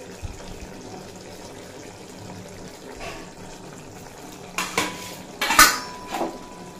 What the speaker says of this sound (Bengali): আর খুব ভালোভাবে মিশিয়ে নেব।